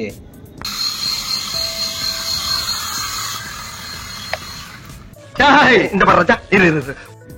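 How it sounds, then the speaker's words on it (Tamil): A toy remote-control helicopter's rotor spins up with a whirring, ratcheting mechanical sound for a few seconds, then close voices talk loudly over a quieter background. "கண்ட்ரோலரை அழுத்தின பாருங்க, நம்ம ஹெலிகாப்டர் சுற்ற ஆரம்பிச்சிருச்சு"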